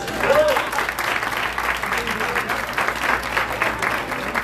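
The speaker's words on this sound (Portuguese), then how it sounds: "Uma salva de palmas para eles." Sustained applause from a church congregation, a continuous rush of many hands clapping at moderate loudness with murmuring voices mixed in throughout.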